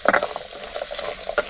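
Onions sauté in a pan, stirred briskly. Close sizzling runs under repeated scraping strokes of a spoon against the pan, with a sharp clink near the end.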